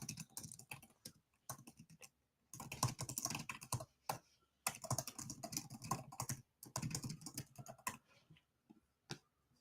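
Someone types on a computer keyboard in quick, dense runs of clicking keystrokes broken by brief pauses. The typing is close and moderately quiet, with no voices.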